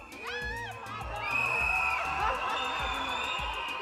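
A live audience at a televised singing contest final shouts, whoops and cheers loudly together, a sustained dense crowd roar filling the hall.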